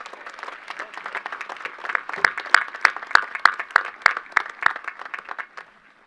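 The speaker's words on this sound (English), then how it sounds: "Give them a round of applause, please." Applause from a graduation ceremony crowd for a high school class commencement, a steady patter of many hands with sharp individual claps standing out near the middle, building then tapering over several seconds without speech.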